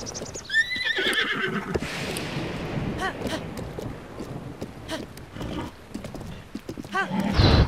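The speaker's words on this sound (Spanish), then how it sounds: "Qué tedioso lleva el caballo." A horse in Zelda: Breath of the Wild whinnies loudly at the start, then hooves clip-clop steadily through shallow water and over ground under a continuous game backdrop, with another neigh near the end.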